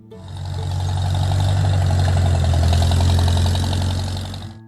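A Farmall H tractor engine runs loudly and close, a steady low rumbling drone with a rough throb that swells in and fades back out.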